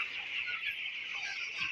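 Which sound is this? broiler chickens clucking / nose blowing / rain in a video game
broiler chickens clucking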